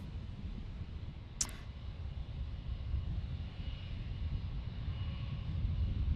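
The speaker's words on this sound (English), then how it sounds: "we got a Cessna 208 Caravan" A Cessna 208 Caravan drones distantly at an airport in San Diego, a faint, steady, low engine rumble that swells slightly over several seconds, broken by one short, sharp click near the start.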